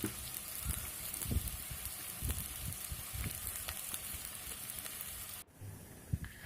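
Chopped onions sauté in hot coconut oil with a dense, steady sizzle and crackle that cuts off abruptly near the end, leaving a quieter background with a single soft knock.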